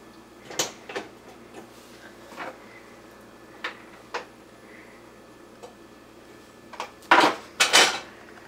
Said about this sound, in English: we're going to put some butter in the bottom of the pan and turn it to a medium heat